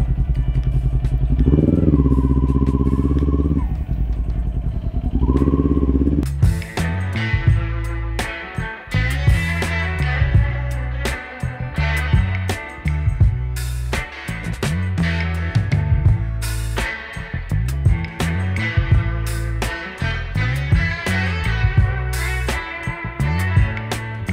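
A Kawasaki Ninja 400 motorcycle engine, being checked for a check-engine error code 21, cranks and catches, then runs loud and close, blipping and revving in uneven bursts.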